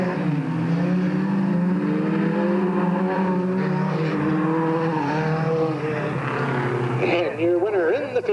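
Race cars at Delta Speedway in a 1996 race, a continuous engine drone with rising and falling pitch as the cars pass, loud under a track announcer's commentary.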